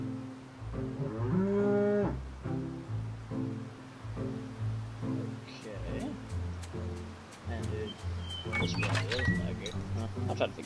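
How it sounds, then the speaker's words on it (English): A cow in a cube-themed video game moos several times in low, drawn-out calls over steady background ambience, with a few brief clicks near the end. "Oh no, the cow! I just didn't realize I just killed the cow."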